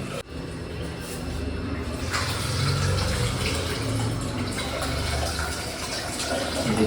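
Boiled rice being rinsed in water gives a continuous, fairly loud rush of running and sloshing water that starts abruptly and carries on unbroken at close range.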